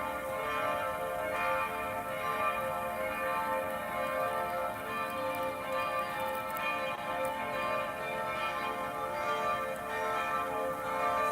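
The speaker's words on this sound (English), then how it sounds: "Some beautiful bells ringing." Church bells ring continuously in the Square of the Virgin Mary in Skopje, North Macedonia, a dense, sustained wash of overlapping tones heard at a distance, fairly faint with no talk.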